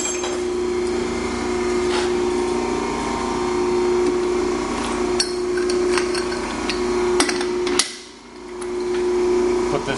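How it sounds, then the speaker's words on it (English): Hydraulic exhaust pipe bender working a 2.5 inch pipe in a muffler shop, a steady loud motor hum running throughout with occasional metallic clicks and a brief dip near the end. "See, the bender pretty much does all the work for us."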